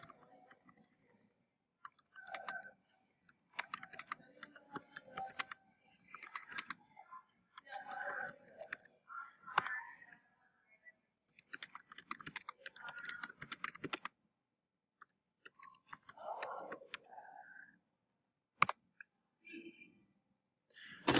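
Someone types on a computer keyboard during a live online lesson, with quiet bursts of close key clicks in irregular runs separated by brief pauses.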